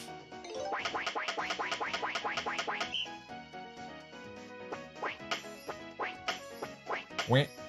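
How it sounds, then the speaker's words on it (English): Cartoonish duck quacks from a Pokemon X and Y video game minigame, a fast steady run of loud rhythmic quacks followed by scattered ones over bright game music. "Sounds like a duck."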